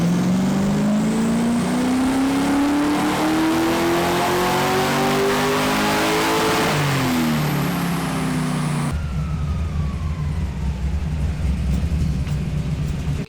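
A tuned car revs hard on a dynamometer at a dyno day, its engine note climbing steadily through a long loud pull before dropping off abruptly to a lower rumble, with no talking.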